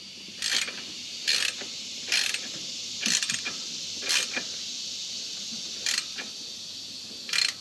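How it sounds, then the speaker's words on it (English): A 9/16 ratchet snugging up a bolt on an Onan 4000 generator clicks in about eight short, sharp bursts with pauses between them, close and fairly loud over a quiet background hum. "I'm going to use our 9/16 ratchet to snug it up."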